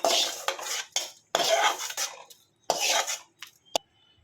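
Fried curry leaves shifted onto a plate, heard as a few separate scraping clatters of a metal spoon against a pan and plate, with short pauses between bursts and a sharp clink near the end.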